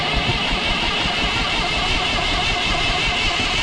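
A Massey Ferguson 135 tractor engine runs with a loud, steady, rough mechanical rumble close by, with no clear separate cranking.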